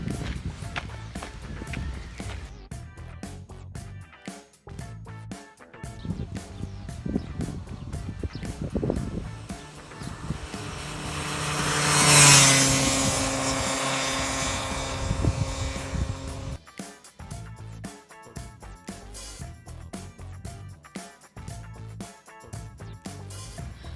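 An Aprilia SR Motard 50 scooter runs at top speed, its engine droning steadily with a sustained roar of wind and road noise that swells to a loud peak midway and then eases back.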